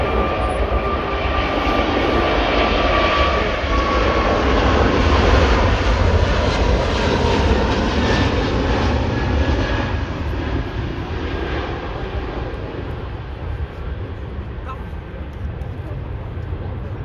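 An airliner roars loudly overhead at Manchester Airport, a continuous close engine rumble that slowly fades over many seconds.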